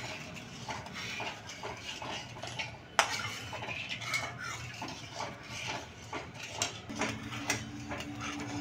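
A spoon stirs cardamom powder and orange food colour into a sugar syrup for motichoor laddu, giving repeated metallic clinks and scrapes against the pot, with one sharper knock partway through and no talking.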